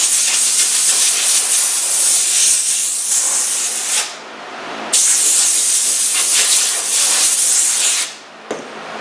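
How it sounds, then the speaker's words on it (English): Compressed air hose blasting a cabinet door clean before spraying, two long loud hissing bursts of about four seconds each separated by brief pauses, followed by a short final puff. "One last shot with the air hose."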